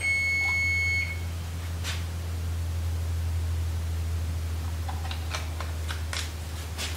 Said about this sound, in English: there's the timer going off on our lemon bars